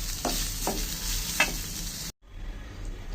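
Onions frying in oil in a wok, a steady hiss of sizzling with a few scraping stirs of the spatula, then a sudden cut to quieter sizzling.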